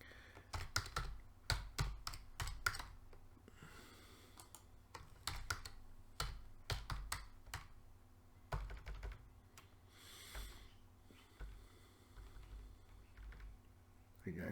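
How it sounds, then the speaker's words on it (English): Bursts of keyboard typing with quick clustered key clicks in irregular runs, near and fairly clear, while someone entering supplier category details into a computer program talks at intervals between them. "again, pardon my typing."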